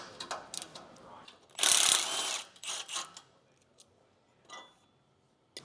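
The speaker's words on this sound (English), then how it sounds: "Take off those 14mm nuts as well." A hand ratchet backs 14mm nuts off the frame extenders of a Toyota Tacoma, heard as several quick close clicking bursts with the loudest in the middle and short pauses between them.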